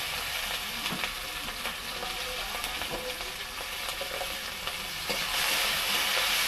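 Chopped tomato, capsicum and green chillies frying in a pan give a dense, continuous sizzle with occasional stirring knocks, growing a little louder and hissier near the end, without any speech.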